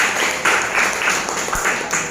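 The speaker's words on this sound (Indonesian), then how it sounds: "Tepuk tangan buat Bunda Arya." A business gathering audience applauding, with steady, fairly loud massed clapping and a few louder bursts throughout, no talk over it.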